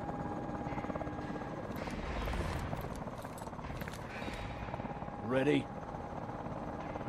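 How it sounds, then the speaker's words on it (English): A helicopter's steady rotor drone runs through a Call of Duty: Advanced Warfare battle scene, loud and continuous under a voice speaking, with a brief swelling whoosh near the end. "Push to the chopper!"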